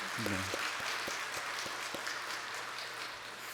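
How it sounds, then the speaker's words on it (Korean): A church congregation at a Wednesday service applauds in encouragement, steady crowd clapping filling the room after a few brief tonal notes at the start. "우리 격려와 축복의 박수 한번 하겠습니다"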